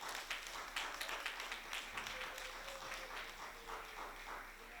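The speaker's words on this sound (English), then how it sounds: "Can we have another applause?" An audience claps after a panel presentation on agency for adults with intellectual and developmental disabilities, giving quiet, steady, somewhat distant applause that holds at an even level throughout.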